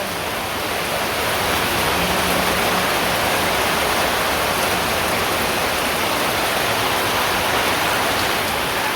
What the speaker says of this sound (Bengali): এখন ঝড়ি নেই বেশি, হালকা হালকা ঝড়ি। ওই তো বাতাস আর ঝড়ি